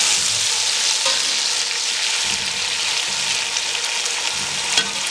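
Chopped tomatoes and green chillies fry over a medium flame, a strong, steady sizzle broken by recurring scraping stirs of a spoon across the pan.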